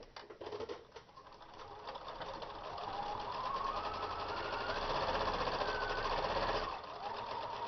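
Sewing machine stitching a fabric microwave potato bag, a steady continuous mechanical whir running throughout with a brief pause near the start, close and alone without talk.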